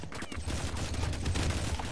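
Rapid gunfire crackles through a Counter-Strike 1.6 match, a dense stream of shots close by with a low rumble underneath, sustained for two seconds without a break.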